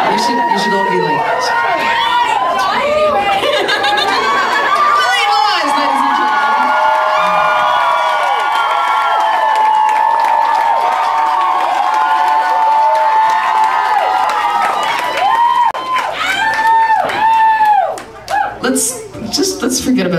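A concert crowd at a New Orleans show cheers, whoops and shouts for a sustained stretch, loud and close, with scattered applause and laughter before it breaks up near the end.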